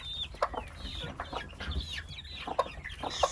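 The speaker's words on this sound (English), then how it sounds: "check out the baby chicks" Baby chicks in a backyard chicken coop cheep and chirp in quick, overlapping bursts, fairly faint but steady, with soft clucking from grown hens underneath and no talking.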